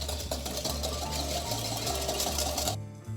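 A whisk beats instant coffee and sugar in a bowl for dalgona coffee, a steady fast whirring buzz that runs evenly and then cuts off near the end.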